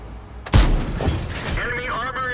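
In an armored-vehicle video game with the Strv 103-0 tank destroyer, a single loud cannon shot booms with a sharp onset and a rumbling tail, followed by lighter clanks, while a voice talks over it.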